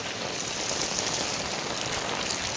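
Heavy monsoon rain pours down in Badlapur in a steady, dense hiss, filling the whole stretch with no voices.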